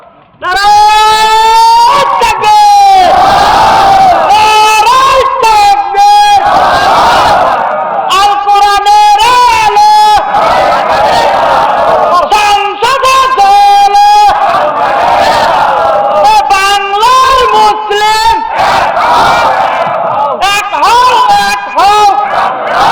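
A large rally crowd shouts in unison, again and again, with loud, strained cheers of takbir rising and falling in waves. Between bursts a voice leads and calls out over the crowd.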